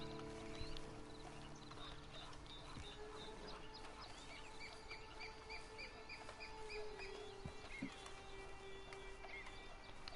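Horse hooves clip-clop at an easy pace amid a steady ambient bed with chirping birds and faint tonal music, from the video game Red Dead Redemption 2 Online.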